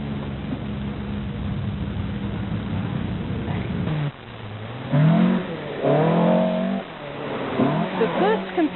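An old Datsun rally car engine drones steadily in the distance during a 1983 New South Wales rally event, then a voice speaks over the steady engine noise.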